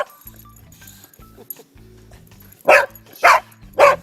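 An excited dog faces a crayfish and barks three times in quick succession near the end, loud and close, after a quieter stretch with soft background sounds.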